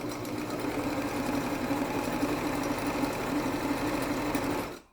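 A sewing machine stitches a back stitch in a steady, fast mechanical whirr with a constant rhythmic hum, close and even for about five seconds before it stops abruptly.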